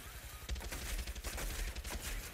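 Rapid bursts of gunfire in Far Cry 6 crackle continuously, aimed at a helicopter, overlapping shots forming a dense fusillade with heavy low thumps throughout.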